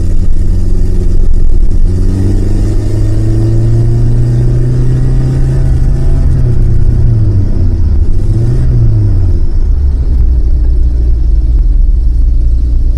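A rescued K car's small engine revs loud and close, rising in pitch and dropping as it shifts through its three automatic gears, a steady droning hum with clear pitch steps.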